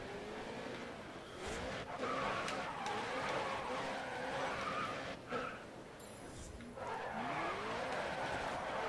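A race car in the video game GRID Autosport spins out with long tire squeals and skidding over a droning engine, then crashes with sharp impact thuds, while a man reacts in the background.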